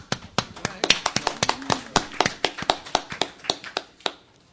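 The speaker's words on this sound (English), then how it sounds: "Yeah, you can clap." A short burst of scattered hand claps from a few people, sharp and irregular, fading out after a few seconds.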